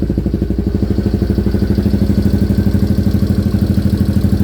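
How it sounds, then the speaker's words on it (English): A Yamaha engine with a 366 big bore kit and a new piston idles steadily right after its first start, a close, even, fast-pulsing putter with light mechanical clatter that holds throughout with no talk. "Engine's actually quieter than what it was with the other piston in it."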